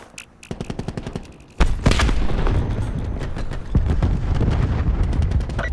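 A cluster grenade goes off in Call of Duty Black Ops 4 on PS4: a quick run of sharp clicks and pops, then a heavy blast that rolls into sustained rumbling and crackling detonations, with another surge near the end.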